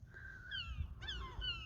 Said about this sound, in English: Oh, Blue, there's some seagulls